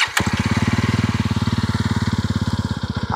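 A 350cc motorcycle idles in neutral, its exhaust giving a steady, close, rapid thumping pulse after a brief start-up burst, running alone with no talk.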